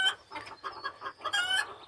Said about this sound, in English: one of them did turn out to be a rooster